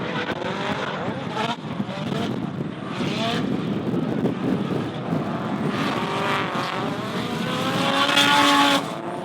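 Drift cars racing at the D1NZ Pro-AM series in Taupo, a Nissan S13 chasing a rotary-engined car: engines rev hard and wail, with squealing tyres and a commentator talking over the din, which builds louder toward the end.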